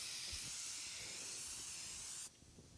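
Spray adhesive hisses from an aerosol can in a steady close blast while coating a surface for a leather guitar pickguard, then cuts off abruptly near the end, leaving a quiet room.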